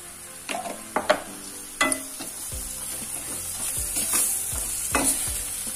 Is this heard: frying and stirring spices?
yes